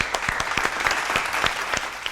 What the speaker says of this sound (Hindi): एक दफा जोरदार तालियां